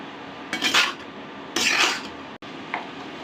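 A utensil scrapes and clanks against a pan while ash gourd stir-fry is tossed, two distinct bursts of metallic stirring with a brief clink afterward, quiet and close.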